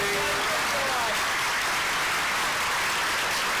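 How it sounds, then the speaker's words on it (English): Audience at a People's Town Hall on saving Medicaid, applauding in a dense, loud, sustained roar of clapping that fills the whole stretch without a break. "give yourself a round of applause for being here"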